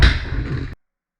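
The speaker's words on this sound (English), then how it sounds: "then we'll hit it with a blast of air." Short burst of compressed air blown through a woodturning part in a workshop, a loud broadband hiss with low thumps lasting under a second, then cut to silence.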